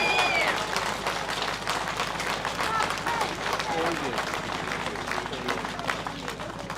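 A crowd applauds outdoors at a London protest with sustained, even clapping from many people. Voices and talk carry over the clapping throughout.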